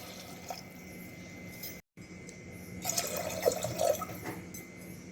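Water poured from a cup into rice in a pot for an Odia veg thali, a faint trickling splash that briefly cuts out, then returns as bubbly, dripping pouring toward the end, quiet and close.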